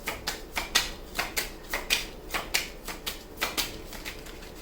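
Tarot cards being shuffled and drawn, a steady run of crisp riffling snaps about every quarter second, close and alone with no talking.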